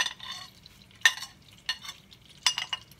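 Garlic, parsley and shallots sautéing in hot oil in a pan for a seafood lasagne, quiet sizzling broken by a few sharp stirring scrapes and clinks near the pan, with no voices.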